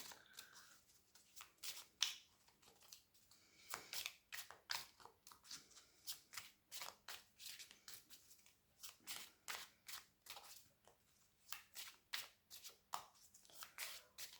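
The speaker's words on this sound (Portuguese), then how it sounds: "E vou agora baralhar arcanos menores" A deck of tarot minor arcana cards being shuffled by hand, quick crisp riffling bursts repeating in an irregular rhythm, close and clear, with no speech.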